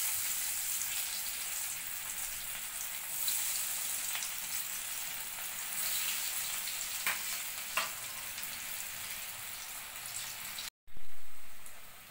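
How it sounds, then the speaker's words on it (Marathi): Makhana and oats cutlets frying in hot oil in a pan, a loud, steady, close sizzle with crackling pops running throughout, cut by a brief sharp break near the end. "आता हे आपण आपलं तेल तापलेलं आहे, त्याच्यामध्ये आता आपण हे फ्राय करून घेऊया."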